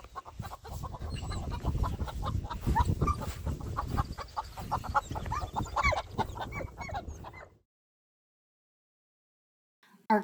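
Chickens cluck and chatter close by in a busy flurry of short calls, then everything falls silent, with a brief burst at the very end.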